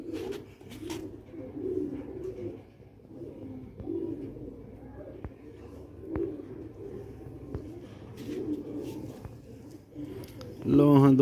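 Sialkoti black-faced pigeons coo in low, repeated murmuring phrases at close range, with someone talking over them throughout.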